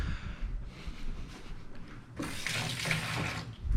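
Water flicked onto a hot pan on the stove, a near hiss and sizzle that swells in the latter half, with no talking over it.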